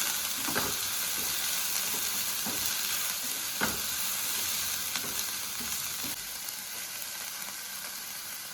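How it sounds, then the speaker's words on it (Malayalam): Onion and chopped green chillies stir-frying in a pan for masala bonda, with a steady sizzle and the intermittent scrape and clink of a spoon stirring, close and with no talk. "സവാള വാടി വന്നിട്ടുണ്ട് അതിലേക്ക് രണ്ട് പച്ചമുളക് അരിഞ്ഞത് ചേർത്തിട്ട് ഒന്നും കൂടി ഒന്ന് ഇളക്കി കൊടുക്കാം"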